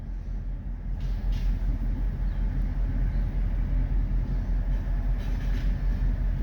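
A train rolls past on the track in a continuous low rumble, with rhythmic wheel clatter and faint squeals mixed in at steady loudness.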